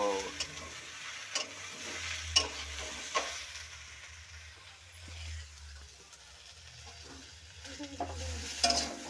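Fish curry with eggplant and taro cooks in a pan with a soft, steady sizzle and low bubbling, broken by a few sharp utensil taps and stirring clatters, fairly quiet and without speech.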